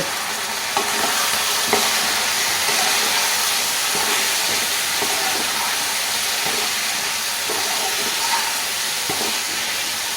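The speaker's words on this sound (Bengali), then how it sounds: "এই মশলাগুলো দিয়ে আমি ভালো করে কষব" Spices and fennel paste fry in a pan for a cauliflower and paneer curry, giving a steady, close sizzle and hiss. Faint soft clinks of stirring run throughout, and no voice is heard.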